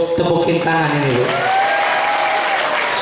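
An audience at an Isra' Mi'raj commemoration in a mosque breaks into applause, with a voice singing or speaking over the clapping throughout.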